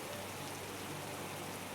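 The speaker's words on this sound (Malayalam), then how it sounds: "നല്ല മഴയാണ് നല്ല തണുവും ഉണ്ട്" Heavy rain falls on a cold day at a village home, heard as a faint, steady, even hiss with no breaks.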